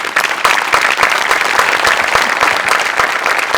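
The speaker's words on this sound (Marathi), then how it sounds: "सचिन मोटे आणि अमोल पाटील दोघांसाठी प्रचंड टाळ्या व्हायला पाहिजे" A studio audience at the Hasya Jatra comedy show breaks into dense, loud applause, with many hands clapping continuously throughout.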